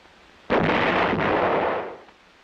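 A single heavy howitzer round is fired, a sudden loud blast followed by a long rolling boom that slowly fades, alone with no voices.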